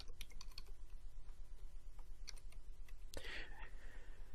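Quiet typing on a computer keyboard, a run of soft irregular key clicks followed by a slightly louder clatter near the end, with no talking.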